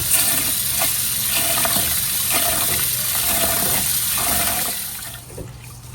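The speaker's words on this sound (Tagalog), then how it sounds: "Hugasan lang natin yung rice ng 3 beses." Steady rush of running water with sloshing and splashing as rice is washed, continuous and close, tapering off near the end.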